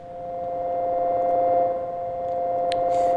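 A self-made MPE synthesizer patch with expressive control and a horror feel holds a steady, droning tone at moderate loudness, with a faint bright blip near the end.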